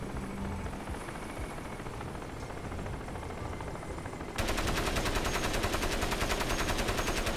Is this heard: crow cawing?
no